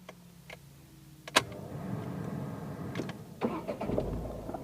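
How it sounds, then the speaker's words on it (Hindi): A 2020 Tata Tiago hatchback engine starts with a sharp crank catch, then settles into a low steady idle with light mechanical ticking and a few clicks, heard close and alone. "तो कार स्टार्ट हो चुकी है।"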